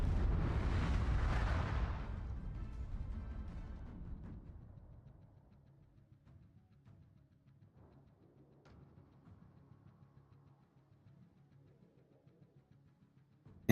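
Torpedoes strike a warship in World of Warships with a loud, rumbling explosion at the start that slowly fades into a low, quiet hum.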